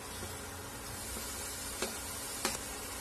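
Chopped tomato sautés in hot oil with masala for a potato-capsicum gravy, a soft, steady sizzle broken by two sharp clicks of stirring.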